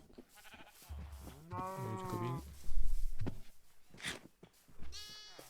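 Sheep bleating in a farming video game, several wavering bleats spread over a few seconds with other livestock-like calls, while someone speaks briefly in French.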